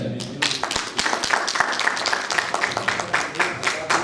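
A conference audience at an IBC business event claps on cue, producing a scattered, moderately loud patter of hand claps over a few seconds, with a voice and some background sound mixed in.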